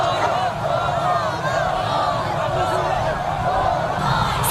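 Dense crowd noise from people lining a Pyongyang street, a continuous roar of cheering and shouting voices at steady loudness, with no individual speech standing out.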